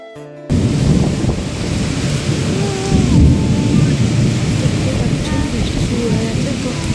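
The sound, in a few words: rain and thunder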